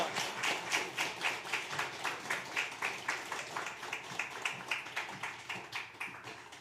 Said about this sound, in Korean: 자, 다시 한번 힘찬 박수 부탁드리겠습니다.